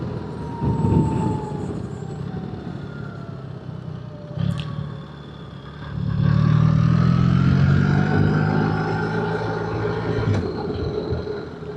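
A 2025 BMW R 1300 GS Adventure with automated shift transmission accelerates in road mode at about three-quarter throttle. Engine tone rises and drops through gear changes over a steady road and wind rush, with a louder pull near the end.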